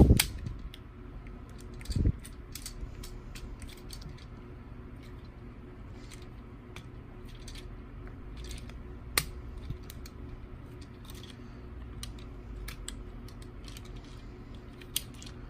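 Plastic parts of a Transformers Siege Megatron toy snap and click into place: scattered small, sharp clicks over a steady low background hum, with one firmer snap near the start and no talking.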